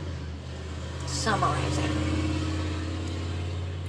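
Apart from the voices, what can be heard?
car driving past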